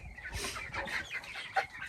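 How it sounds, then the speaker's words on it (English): Silkie chickens clucking nearby, a run of soft, irregular clucks and chirps from several birds, faint and close, with one sharper peep near the end and no talking. "Look at them all! So many little chickens."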